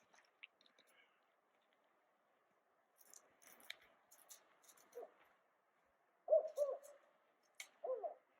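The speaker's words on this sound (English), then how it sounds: "this bird is calling pretty frequently" Faint, distant northern spotted owl hoots come in a few short groups over a quiet night background, with small rustles and clicks in between.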